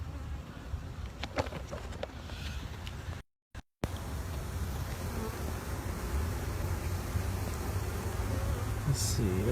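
Honey bees buzz in a dense, steady drone around a push-in queen cage, close and continuous, with a brief break partway through before the hum resumes.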